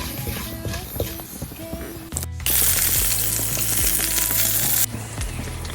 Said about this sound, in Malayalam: നമുക്ക് വെളുത്തുള്ളിയും പച്ചമുളകും ആഡ് ചെയ്യാം അതിനുശേഷം ഉള്ളിയും കൂടി ഇട്ടിട്ട് വഴറ്റാം